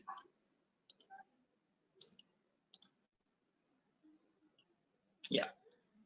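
A computer mouse clicks on a website in a quiet room, giving a few faint, sharp clicks spaced irregularly a second or so apart, with one louder thump near the end.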